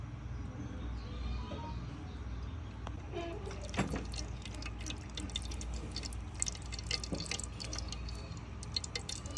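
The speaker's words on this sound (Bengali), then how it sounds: "এবার আমি কড়াতে তেল দিয়ে দেব" Cooking oil poured generously into a karai on a lit stove before frying chanachur, a soft steady liquid trickle at low level with faint kitchen background.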